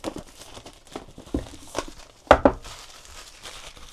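Crinkly rustling and a couple of sharp crackles as a SuperBox's packaging is cut with scissors and torn open, close up, with soft handling noises around it.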